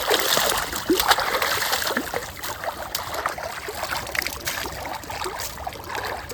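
Water from a borewell splashes and pours continuously and fairly loudly outdoors, a steady hissing gush without speech.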